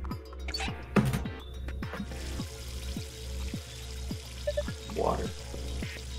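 An old sink faucet in Zero Escape VLR runs with a steady pouring stream, mid-level and continuous over a rhythmic low pulse, while people talk and murmur briefly over it.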